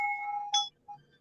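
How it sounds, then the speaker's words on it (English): A small wind chime rings outdoors, a long sustained tone fading before a brighter metallic strike and a faint softer ping, fairly quiet with a low hum underneath and no talking. "I got a little wind chime out here."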